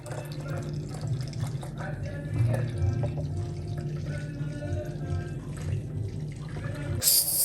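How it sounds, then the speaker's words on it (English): Fresh cucumber, lemon, lime and ginger juice poured into a jug, a steady liquid splashing and trickling with small drips, ending in a brief sharp clink at the close. "We go ahead and add it in our jug"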